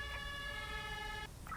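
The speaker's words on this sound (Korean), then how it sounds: "구급차." An ambulance siren in the Emergency video game wails steadily and loudly, a sustained tonal sound over rumbling game noise that cuts off sharply near the end, with no voices.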